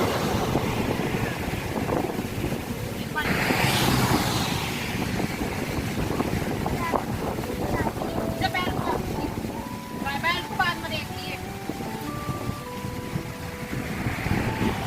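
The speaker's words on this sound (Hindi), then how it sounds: "और हवा देखो कितनी अच्छी चल रही है" Wind blowing outdoors, a steady rush and buffeting against the microphone that runs throughout, with a person talking over it and some faint tonal sounds in the background.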